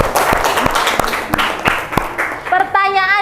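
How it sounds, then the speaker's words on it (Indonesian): A mathematics class on linear programming claps for a student with loud, close, rhythmic group clapping and regular sharp beats, and a voice speaks over the clapping toward the end. "Beri tepuk tangan ke Zia."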